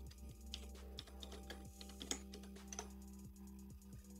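Fingers tap out a project name on a computer keyboard, a quiet, steady run of close key clicks with a low electrical hum beneath and no talking.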